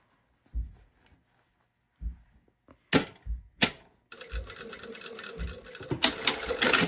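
A sewing machine stitches a shirt seam in short bursts of rapid mechanical clatter separated by pauses, building into a longer continuous run near the end, close and fairly loud, with no voices.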